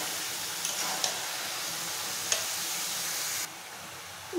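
Chicken with bottle gourd and potato sizzles steadily in a pan while a spoon scrapes through it a few times, a soft continuous frying hiss with occasional light clinks, no voices.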